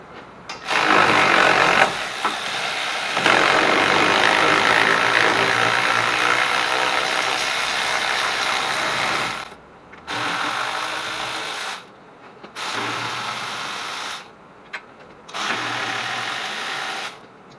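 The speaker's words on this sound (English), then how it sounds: "What I'm going to do is switch to my electric ratchet," An electric ratchet buzzes steadily while backing out axle hub bolts on a Ford Taurus, one long run of whirring followed by three shorter bursts separated by brief silences, loud and close.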